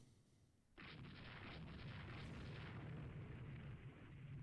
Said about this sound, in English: Enemy ship monoclam is hit by a torpedo and sunk!